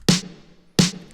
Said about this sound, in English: if you listen closely, you'll notice there's a bit of reverb on every snare hit